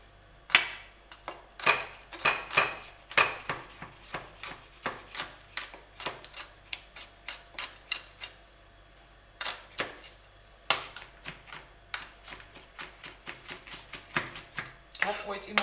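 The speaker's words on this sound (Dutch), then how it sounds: "Ik kan als een echte pro deze in prachtige stukjes gaan snijden." Repeated sharp knife chops through Chinese cabbage against a cutting board, a steady series of crisp close strikes with short pauses between bursts.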